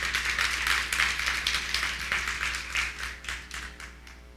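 Church congregation applauding in praise of the Lord, a dense wash of many hands clapping steadily and fairly close, with no voices over it.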